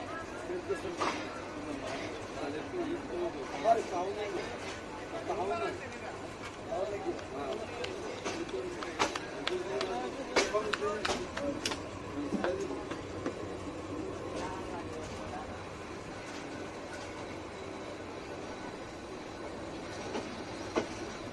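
A train in Bangladesh bound for Dhaka rolls along with steady rumbling and intermittent clicks of the wheels, a continuous moderate din heard from on board.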